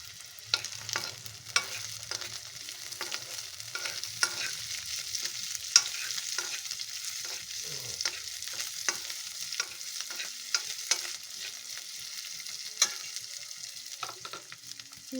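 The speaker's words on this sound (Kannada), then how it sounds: "ಈಗ ಜೀರಿಗೆ, ಮೆಣಸು, ಮೆಂತ್ಯ ಎಲ್ಲ ಹಾಕಿ ಫ್ರೈ ಮಾಡ್ಕೊಬೇಕು." Cumin, pepper and fenugreek frying in a pan, a dry close sizzle broken by rapid repeated scrapes and taps of a spoon stirring, steady throughout with no speech.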